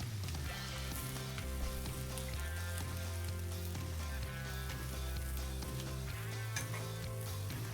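Slices of queso para freír frying on a Blackstone griddle give off a steady, close sizzle, partly masked by sustained tonal background music.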